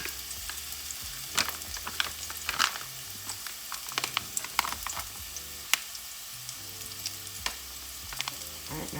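Chicken feet sautéing with curry in a pan for Jamaican curry chicken foot, a steady sizzle with scattered crackles and clicky stirring taps throughout.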